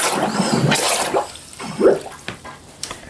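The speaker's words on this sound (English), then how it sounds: "we're going to watch the submarine blow all the blue water out and fill itself with air" Model submarine purging blue water from its tanks and filling with air, a gurgling, sloshing rush of water with a bubbling burst near the middle, fairly close and alone without speech.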